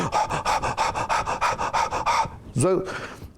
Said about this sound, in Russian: Садиться и дышать.